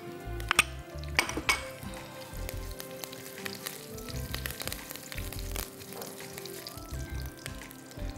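Curry leaves hit hot oil in a pan for pumpkin kootu and sizzle steadily, with sharp metallic clinks of a utensil against the pan standing out near the start and recurring throughout.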